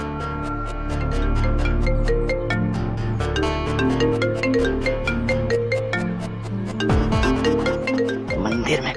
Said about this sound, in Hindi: मंदिर में कदम रखा नहीं कि इस मनहूस का फोन आ गया